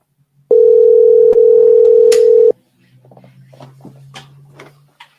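A telephone dial tone from a phone call rings out loud and steady for about two seconds, then cuts off, leaving quiet clicks and faint handling noises.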